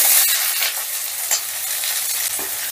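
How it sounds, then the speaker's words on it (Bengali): Chopped onion hitting hot oil with a whole-cumin tempering for egg masoor dal, a loud, steady sizzle with soft stirring scrapes, close up and without voices. "ফোড়নটা একটু নাড়াচাড়া করে দিয়ে দিচ্ছি পেঁয়াজ কুচি"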